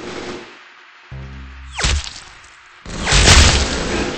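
Gunfire in a shooter video game comes in sharp, loud bursts, with a whooshing streak between a short volley and a heavier final blast.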